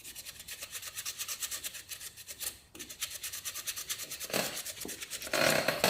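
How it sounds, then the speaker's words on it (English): Wood is hand-sanded with sandpaper at a scroll saw bench, making rapid rhythmic back-and-forth rasping strokes, close and steady, with a brief pause midway and a louder, harsher stretch toward the end. "Do with a better bit of sandpaper really, but there we are."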